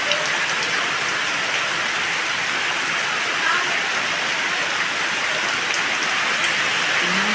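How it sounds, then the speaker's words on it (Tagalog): A dense, unbroken hiss of heavy typhoon rain pours down steadily on surfaces nearby, loud and constant throughout with no talking. "Lakas po ng ulan."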